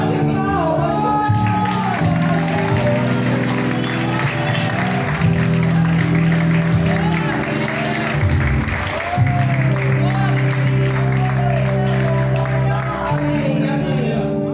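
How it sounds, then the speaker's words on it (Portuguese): Church congregation clapping hands during a service, steady rhythmic clapping under loud music and singing for the whole stretch. "Vamos bater palmas."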